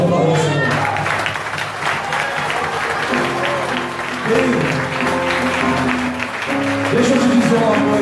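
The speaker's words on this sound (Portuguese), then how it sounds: "palma e aplauda o Senhor" A congregation applauds during a Sunday apostolic church service, crowd clapping rising over sustained musical tones and faint voices, steady and moderately loud across several seconds.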